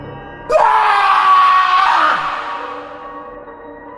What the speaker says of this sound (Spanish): El grito que escapó de su boca no fue suyo